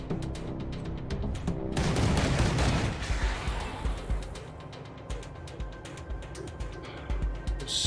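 Gunshots ring out in the turn-based combat of Wasteland 3, a heavy burst of fire and booming impact followed by a string of sharp, rhythmic clicks and shots trailing off.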